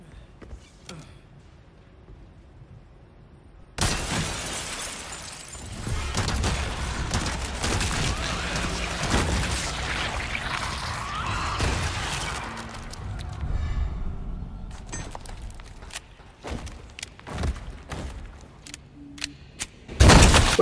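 Explosions in the video game Resident Evil 4 Remake: after a quiet start, a sudden loud blast gives way to a sustained roaring rumble, followed by scattered sharp cracks and another heavy burst at the end.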